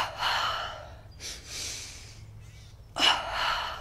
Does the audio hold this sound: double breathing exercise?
yes